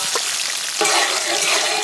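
Finely chopped onions frying in cold-pressed sesame oil, a steady loud sizzle and crackle that swells brighter partway through as they are stirred, close up with no talking.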